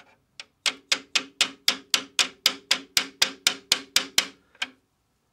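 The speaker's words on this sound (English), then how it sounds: "just give it a little tap with hammer" A hammer taps a model steam locomotive's axle box onto its suspension bracket, giving about fifteen crisp, evenly spaced metallic knocks close up in a quiet room, with no talking.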